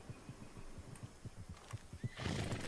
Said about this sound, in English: I see horses with people on the back.